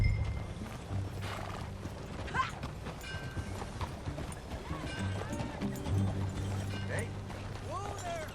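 Horse hooves clip-clop at a riding pace in the video game Red Dead Redemption 2, a fairly quiet rhythmic patter with occasional whinnies, leather and tack creaks and brief voices over a low background.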